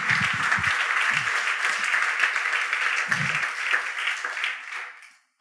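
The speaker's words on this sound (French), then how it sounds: "Est-ce qu'on peut acclamer le roi des rois?" A church congregation applauds and cheers in a broad, steady wash of clapping, with a few deeper voices or thumps early on, before the applause fades out at the end.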